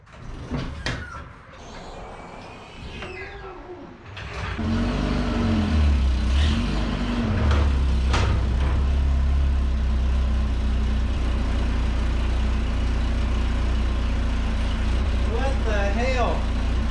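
An old abandoned U-Haul mini truck box van, sitting for years and with suspect brakes, rattles and clunks briefly before its engine settles into a loud, steady low rumble as it drives on.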